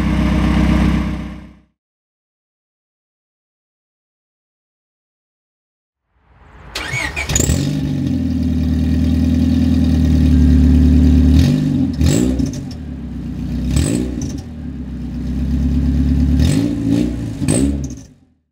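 A car engine with an exhaust leak, patched with flex tape, idles roughly, then revs loudly several times with a rattling, blatty exhaust note; a brief engine burst comes first, then a gap of silence.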